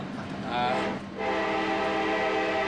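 A very long, heavy iron-ore freight train at Port Hedland, roughly 3.5 kilometres in length, rumbles steadily with sustained tonal droning and a horn-like hum, loud and continuous throughout, with no talk over it.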